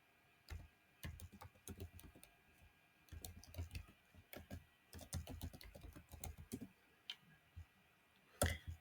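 An email address is typed on a computer keyboard in quiet, close key clicks, arriving in uneven bursts with short pauses between them.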